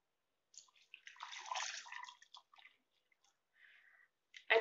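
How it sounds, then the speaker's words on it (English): A glass of water poured into a mixer jar holding cream for homemade ghee, a soft splashing trickle in short uneven bursts, quiet and close, ending with a brief louder splash. "I put 1 glass of water now."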